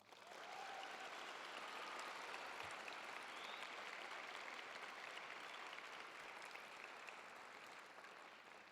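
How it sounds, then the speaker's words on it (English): An audience at a university scholarship reception applauds with a steady, even wash of clapping that sounds distant and soft, sustained for several seconds without speech. "So let's give Brian Mueller and the entire team, our faculty here at GCU, a round of applause."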